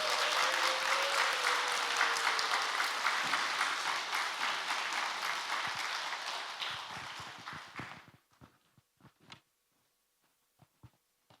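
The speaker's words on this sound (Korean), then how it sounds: "우리 우레와 같은 박수로 뜨겁게 환영하겠습니다" A church congregation claps to welcome the pastor, loud sustained applause for about eight seconds that thins into a few scattered final claps and then quiet.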